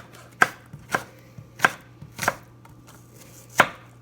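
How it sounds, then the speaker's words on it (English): A knife dices a small apple on a cutting board, giving five or six distinct, fairly loud chops at uneven intervals over a faint low hum. No one speaks. "Dicing it all up."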